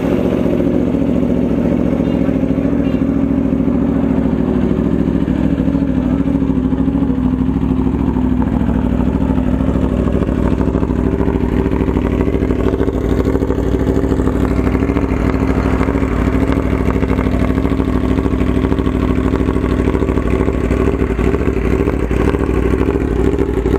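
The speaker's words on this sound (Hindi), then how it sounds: "तो आइए देखते हैं इनके पास कौन कौन सी स्पोर्ट्स बाइक है।" Several sports superbikes idle nearby on a Sunday morning ride, a steady, loud engine rumble with low mechanical clatter and slight revving that holds throughout, with no talk.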